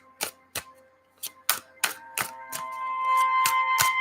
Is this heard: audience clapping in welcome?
no